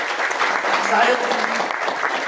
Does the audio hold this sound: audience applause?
yes